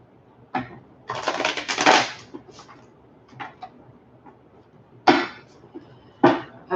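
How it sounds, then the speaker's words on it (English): Tarot cards riffle and slap together in several bursts, a brisk shuffle followed by softer taps and a couple of sharp card snaps. "one more shuffle"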